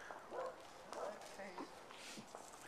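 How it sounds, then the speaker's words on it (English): A dog barks a few times at a distance, faint and intermittent, with short yips amid outdoor background noise. "Dog barking."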